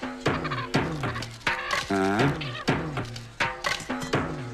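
Chickens clucking in a village scene in a Tamil comedy, rapid repeated throaty calls with strained wavering cries, fairly close and continuous, without talk over them.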